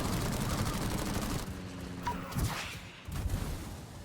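Rockets fired from a ship in the naval combat game World of Warships, heard as a rapid volley of sharp gunfire-like cracks and thumps, fairly loud, with a brief lull and a second burst near the end.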